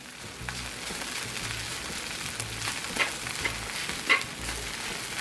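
Rice frying with bacon and egg on a hot BBQ surface, a steady close sizzle with repeated scraping stirs and a few sharper clinks of the utensil.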